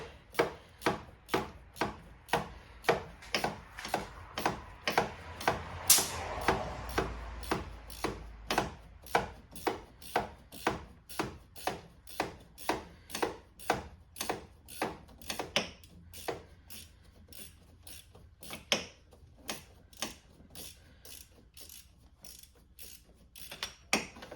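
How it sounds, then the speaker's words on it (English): A ratchet wrench clicks in a steady, rhythmic series of close, crisp strokes while an alternator bolt is removed on a 3.6L Dodge Grand Caravan, the clicks slowing and softening toward the end. "Getting that bolt out gave me more room to get a full click on the ratchet."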